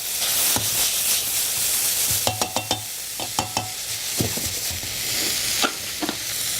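Sausage crackles and sizzles in a frying pan while a potato masher repeatedly thumps and scrapes through it in uneven bursts, close and busy, with no speech.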